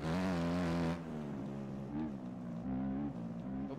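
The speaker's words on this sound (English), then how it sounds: "My bike is just riding the wall." A motocross bike engine in the MX Bikes video game drones loudly as the bike rides along a wall, its pitch wavering and dipping after a brief high-revving opening burst.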